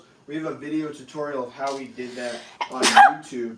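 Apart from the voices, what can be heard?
sneeze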